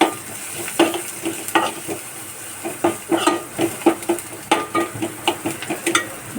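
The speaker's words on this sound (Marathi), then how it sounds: "थोडीशी हळद टाकली, धना जिरा पावडर टाकलाय, ते चांगलं परतून घेते" A spiced mixture with chilli powder, turmeric and coriander-cumin powder sizzles in a pan as a spoon stirs it, scraping in a steady series of sharp, close strokes over a constant hiss of frying.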